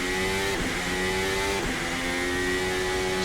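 A car engine in a racing game revs steadily during donuts, a sustained loud whine with two brief dips in pitch as the throttle shifts.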